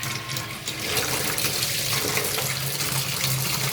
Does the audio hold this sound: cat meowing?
no